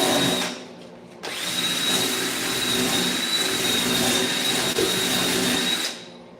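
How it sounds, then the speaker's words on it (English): MIG welding on a custom fiberglass-and-metal supercar hood for a Lambo Terzo Vittoria build, a loud continuous buzzing hiss running for several seconds after a brief start, close and steady. "We're just MIG welding."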